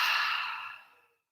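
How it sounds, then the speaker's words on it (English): A single long exhale through the mouth during a hatha yoga session, a close breathy whoosh that fades out over about a second. "exhale through the mouth."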